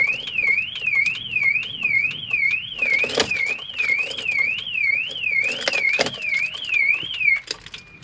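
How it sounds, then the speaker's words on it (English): A Swift Sundance 600 motorhome's remote alarm gives repeated rapid electronic beeping chirps in a steady warbling pattern, loud and close, with a couple of sharp clicks partway through before it stops. "till it beeps like that"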